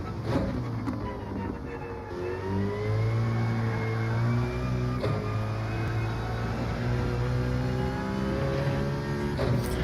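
A Citroen Gr.4 race car engine in Gran Turismo 7 on the Nürburgring GP circuit drones steadily with rising and falling revs through gear changes, a constant loud whirring drive heard without talk.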